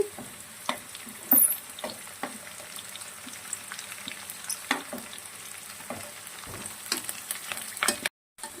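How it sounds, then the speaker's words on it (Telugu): Onions, peas, green chillies and curry leaves fry in a pan with a soft sizzle under repeated sharp stirring clicks and spatula scrapes, fairly close, with no talk. "ఉల్లిపాయ బఠానీలు కొద్దిసేపు వేయించుకుందామండి పచ్చిమిర్చి కరివేపాకు వేసుకుందామండి"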